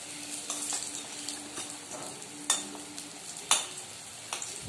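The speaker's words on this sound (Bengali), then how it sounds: "খুব ভালোভাবে ভাজা হয়ে গেছে" Cauliflower pakoras fry in hot oil with a continuous soft sizzle, broken by a few sharp clinks and scrapes of a utensil stirring and lifting them out, with no talking.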